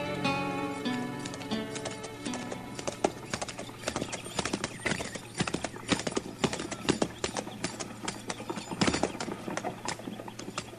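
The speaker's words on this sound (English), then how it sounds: "Tipple, move that horse you're in over so I can get mine in there" Steady clip-clop of horse hooves, close and busy, with several horses moving, and a whinny near the start under a low background, in the Old West radio drama Gunsmoke.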